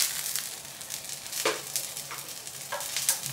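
Steak fat sizzling in a hot pan, a close crackling hiss with scattered sharper pops and spits over a few seconds, with no talk.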